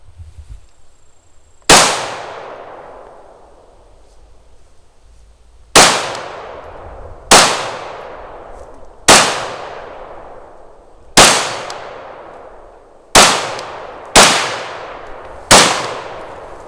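Steyr USR AUG bullpup rifle firing eight sharp, loud single shots at irregular intervals, each crack followed by a long ringing decay, with no talking.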